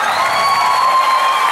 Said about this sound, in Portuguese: vocês não estão só aplaudindo esse show